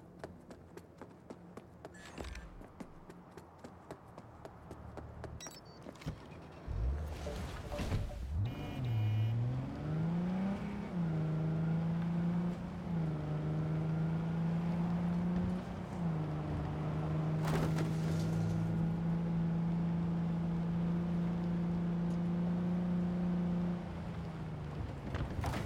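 A car in Cyberpunk 2077 pulls away and cruises at steady speed, its engine humming as a smooth sustained tone after a brief rising rev, fairly quiet and unbroken for most of the stretch.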